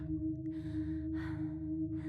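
Ghostly breathing in the horror game Post Trauma: two slow, airy breaths, an inhale then an exhale, faint over a low steady electrical hum in a quiet room.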